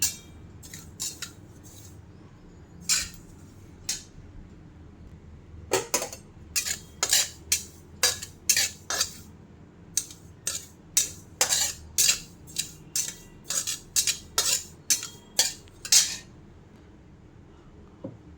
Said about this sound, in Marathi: मी खसखस पण मी एकदम बारीक गॅसवर भाजून घेते